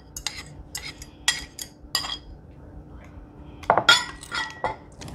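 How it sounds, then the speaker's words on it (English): A whisk stirs banana bread batter in a bowl, striking the sides in a string of sharp, irregular metallic clinks and taps, close and clear, with short pauses between them. "Whisk it together, add that to your banana mixture."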